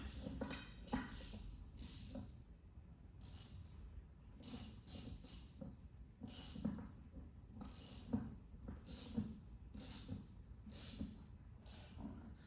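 A scaffold pipe clamp is tightened with a ratcheting tool, giving bursts of quick metallic clicks in about ten short runs separated by pauses, close and fairly quiet.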